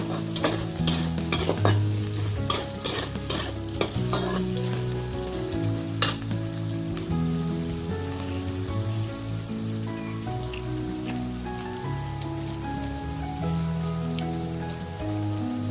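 Onions frying until brown for mutton curry, a steady close sizzle with clattering spoon stirring strikes early on and a background music bed, no talking.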